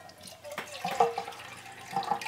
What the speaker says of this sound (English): Let's go ahead and make up the coffee here. Now, I'm going to use cold water.